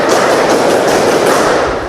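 A class of vocational high school students claps together once in a classroom, a loud, dense burst of many hands that fills the room and rings out briefly.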